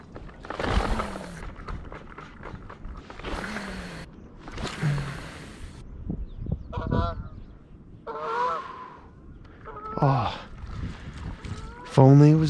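Geese honk repeatedly at night near water during an evening of fishing, a series of loud nasal calls in bursts, some close and some farther off, over a steady background of outdoor noise.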